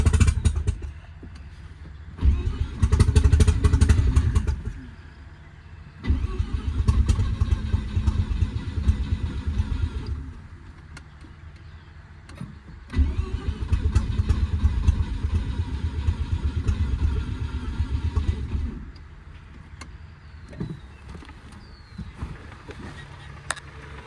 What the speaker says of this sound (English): There's still no downpipe or exhaust, which I think is why it's having a hard time starting.